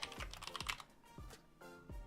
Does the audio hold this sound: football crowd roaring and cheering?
no